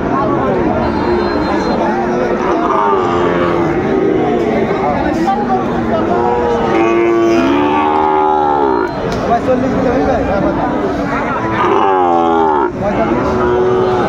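Sahiwal bulls and calves at a busy cattle market, several loud drawn-out moos rising over a constant crowd babble, with people talking nearby throughout.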